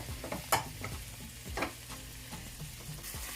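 Frozen bell peppers and mixed vegetables are stirred in a hot pan. A soft sizzle runs underneath, and a utensil scrapes and taps in a few close, uneven strokes with no voices.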